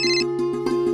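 A phone ringtone plays as an incoming call from a relative arrives at a Punjabi village home, sounding as a loud, close tonal melody with a repeating pulsed pattern and no voices over it.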